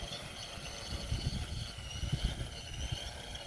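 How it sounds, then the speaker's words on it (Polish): A Phoenix-PILOT drone lifts off and hovers low near the ground, holding position: a faint, steady high-pitched propeller whine with a soft, fluttering low rumble underneath, heard from some distance. "Podnoszę drona, włączam zawis"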